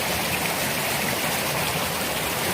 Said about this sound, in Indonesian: Suara derasan air yang mengalir makin kencang.